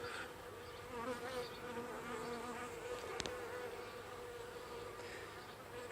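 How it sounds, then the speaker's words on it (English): Honey bees from a Flow Hive Hybrid buzz in a dense, continuous drone close to the microphone, with individual bees rising and fading as they circle. "the bees should eventually get tired of attacking me, go back to the hive"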